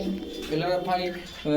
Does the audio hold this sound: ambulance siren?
no